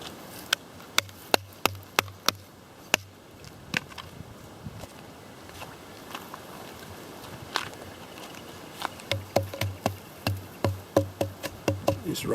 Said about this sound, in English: Let's see the sound the cast iron makes.